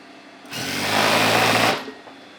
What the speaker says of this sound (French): pour te montrer pourquoi je peux pas coudre à 3000 points minute